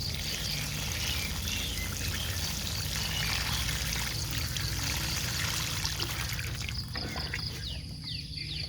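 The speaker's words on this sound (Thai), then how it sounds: "เราก็เท น้ำที่เราผสมกับจุลินทรีย์ลงไป" Water mixed with microorganisms pours steadily onto manure in a basin without drainage holes, a continuous close splashing trickle that runs for several seconds and eases near the end, with faint birds outdoors.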